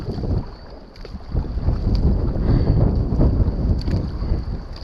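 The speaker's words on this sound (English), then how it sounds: "I'm paddling the Nello 540." A Nelo 540 surfski is paddled downwind in strong wind, with steady blustery wind rumble and water rushing against the hull, continuous and fairly loud, with no talking.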